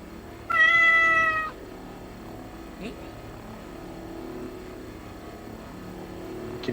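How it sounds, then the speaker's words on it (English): A cat gives one loud, drawn-out meow lasting about a second. It stands out clearly over a low, steady background hum, and after it a faint murmur continues. "Kitty cat."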